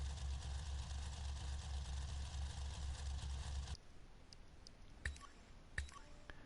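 A monster truck engine idles in the racing game Monster Truck Championship, a steady low rumble with a regular throbbing pulse. It cuts off abruptly partway through, leaving faint background noise and a couple of sharp clicks.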